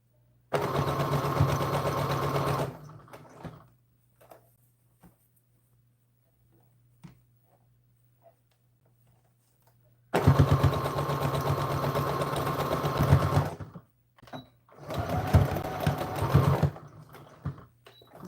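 A sewing machine stitching a dress runs in three loud, steady bursts of rapid mechanical whirring, separated by long near-silent pauses with faint handling noises and a low hum underneath.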